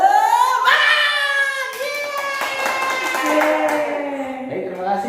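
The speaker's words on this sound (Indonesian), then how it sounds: "kita sekarang tepuk semangat dulu ya, biar lebih semangat ya" Children in a second-grade classroom perform the 'tepuk semangat' spirited clapping chant, following a teacher: high voices chant in unison over scattered sharp hand claps, loud and close throughout.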